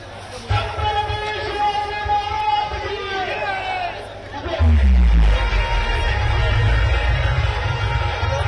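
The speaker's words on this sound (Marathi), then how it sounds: "छत्रपती शिवाजी महाराज की जय अशा घोषणा देत मराठा वादळ आपल्याला पुढे सरकताना बघायला मिळतंय" A large Maratha rally crowd in Mumbai shouts and cheers in a dense outdoor din, with voices and a prominent talking voice over it. The roar swells louder about halfway through.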